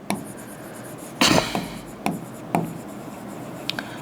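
Pen scratching on paper in a few short strokes of close, dry writing separated by pauses, alone without speech.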